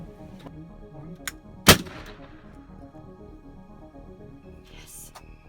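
A small bang goes off in a home science experiment that makes water, one sharp loud crack with a ringing decay, then a quieter pop later, with faint background noise.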